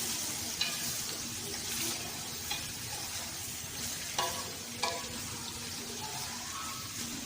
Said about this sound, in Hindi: हमारे पास जो कटे हुए करेले हैं उन्हें हमने डालना है घी के अंदर फ्राई करने के लिए।